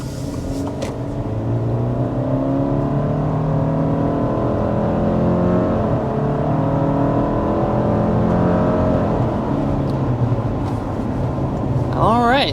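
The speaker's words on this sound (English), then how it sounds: "So there we are, accelerating up to about 60 miles per hour with the 2024 Subaru Outback." A 2024 Subaru Outback accelerates hard to about 60 mph, engine drone rising and shifting in pitch through the gears under steady road and wind noise, heard from inside the cabin.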